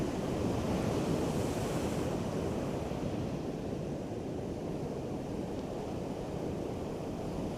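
Strong wind and ocean surf, a continuous loud roar of breaking waves with heavy wind noise on the microphone, easing slightly after the first couple of seconds and no voices.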